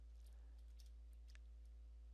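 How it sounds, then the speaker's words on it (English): A few faint, sparse keystrokes click on a Dell G Series computer keyboard, each tap soft and isolated over a steady low hum. "and then you're going to hit enter on your keyboard"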